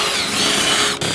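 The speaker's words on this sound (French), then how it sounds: "cette partie là je vais la creuser avec une perceuse" A power drill bores into wood while hollowing a piece for a primitive crossbow, a loud, steady, close grinding whir with a brief dip near the end.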